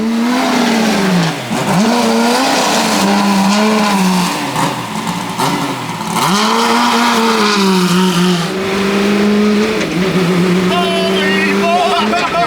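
A manual C8 Corvette drift car's engine revs hard on a dyno, its loud, close exhaust note rising and falling through repeated sweeping pulls, with a voice talking underneath.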